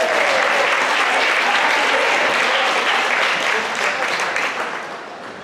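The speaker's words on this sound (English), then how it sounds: "Another round of applause for our 2022 homecoming court, please." Sustained applause from a crowd at a high school girls' volleyball game honoring the 2022 homecoming court, steady and full for several seconds before tapering off slightly at the end.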